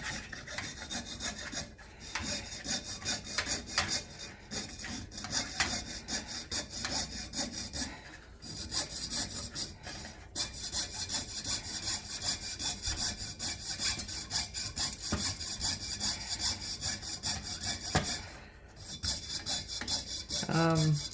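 A coping saw piercing out negative space in a large 6-inch copper coin, with rapid, close back-and-forth rasping strokes broken by a few brief pauses.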